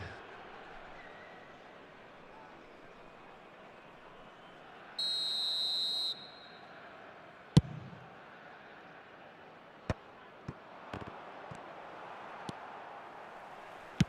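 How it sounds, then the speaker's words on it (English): A referee's whistle calls offside in the eFootball video game, a single steady shrill blast lasting about a second over faint crowd ambience, followed by scattered sharp clicks. "And the whistle's gone, presumably for offside."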